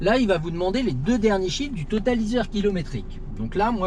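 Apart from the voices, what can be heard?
No everyday noise stands out behind the speech.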